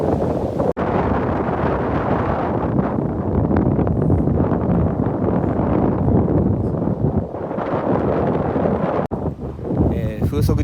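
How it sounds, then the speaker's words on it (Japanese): Strong wind of about 10 m/s blowing across a lake where stand-up paddleboarders are out, a loud continuous roaring buffet on the microphone that drops out briefly twice. "今日の新米湖、風すごいですね。"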